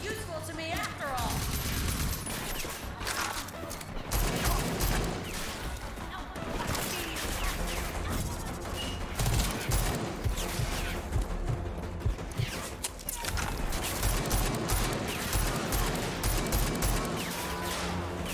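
Dense, relentless gunfire from the video game Rage 2 on Xbox: rapid overlapping shots and bursts pile up continuously and loudly throughout, with occasional crashes mixed in.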